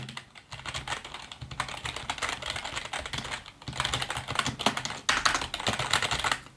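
Rapid, continuous typing on a Logitech G213 Prodigy membrane gaming keyboard, with dense clattering keystrokes in uneven bursts, close up and fairly quiet, with no voices.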